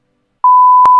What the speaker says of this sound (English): I'm sorry, what was that beeping word you just said?